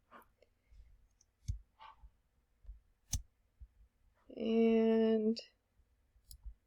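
A computer mouse, used while drawing shapes in Illustrator, gives a few sparse, soft, isolated clicks in a quiet room, with someone briefly speaking in the middle.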